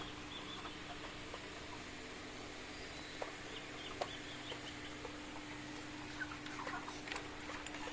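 Some 200 broiler chickens, 36 days old, cluck and chatter faintly across a crowded poultry shed, a steady mechanical hum underneath and a few sharper calls standing out near the end.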